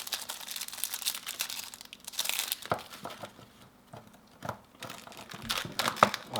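Plastic wrapper of a dark chocolate Kinder Bueno bar crinkles and tears open in close, irregular bursts of crackling with short pauses between.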